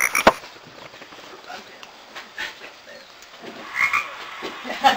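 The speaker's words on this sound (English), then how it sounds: "where's that Frogtown frog?" A frog croaks a few times against a busy indoor room with faint voices and scattered noise, the calls short and fairly close, with a sharper burst near the start.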